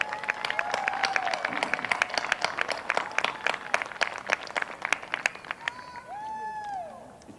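An audience applauds at a commencement ceremony, a dense spread of clapping filling the hall and fading toward the end, with a few whoops and cheers rising above it.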